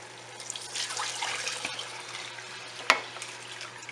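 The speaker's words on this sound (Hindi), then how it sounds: "अब हमने इसमें पानी ऐड कर देना है," Hot water is poured into lentils that have been fried for haleem in a pot, making a steady rushing, sizzling pour with one sharp splash near the end, close and alone.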